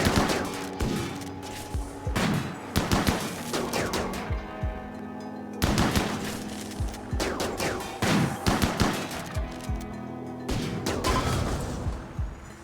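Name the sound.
gunfire in the video game Rimworld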